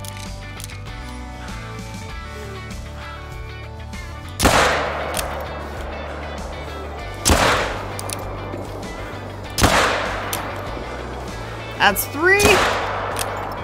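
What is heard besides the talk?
rifle gunshots hunting Eurobison in video game Call of the Wild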